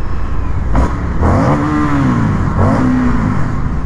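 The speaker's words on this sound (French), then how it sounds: "le bruit c'est le bruit d'un bicylindre." A 2022 Indian FTR1200 twin-cylinder motorcycle accelerating through a short tunnel, its loud engine rising in pitch through two gear shifts with a booming, echoing roar amid wind noise.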